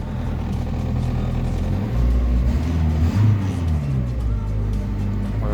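IZh 2717 van with a VAZ 2103 fuel-injected engine running, a close, rough idle rumble with brief revs midway that then settle back.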